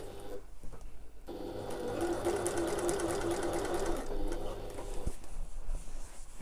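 A sewing machine runs steadily along a backpack seam at close range, a continuous whirring stitch that starts after a brief pause and holds for several seconds with no talk over it.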